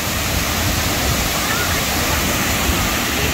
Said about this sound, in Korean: 황시폭포가 나옵니다